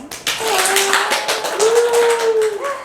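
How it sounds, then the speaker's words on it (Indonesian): A crowd claps steadily for a few seconds, with a drawn-out vocal cheer or tone sounding over the applause. "Tepuk tangan."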